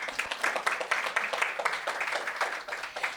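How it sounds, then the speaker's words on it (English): An audience at a women's professional forum in Las Vegas breaks into dense, sustained applause, many hands clapping together at a moderate level throughout. "You can clap."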